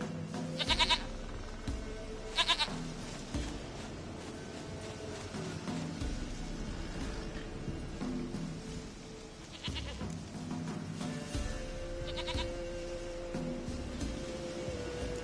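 A goat in The Witcher video game bleats in several short bursts, sounding over a steady bed of ambient game music and background noise.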